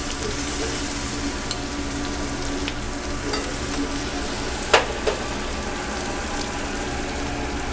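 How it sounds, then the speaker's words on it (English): Caramelized onions hit a hot frying pan and sizzle steadily, a dense continuous hiss with a couple of brief clatters midway as they are stirred in. "I'm going to add in the caramelized onions to the pan."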